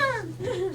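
A person imitates a chicken by barking, a single short strained vocal yelp with wavering pitch, close and fairly soft.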